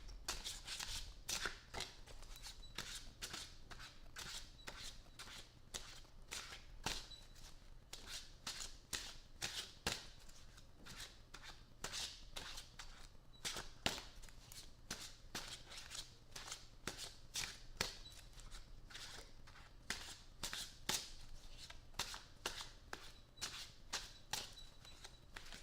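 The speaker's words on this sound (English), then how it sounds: "These cards are like really hard to shuffle." Tarot cards being shuffled over and over, a steady run of crisp riffling bursts and soft card slaps that continues nearly without pause, close up and fairly quiet with no voices.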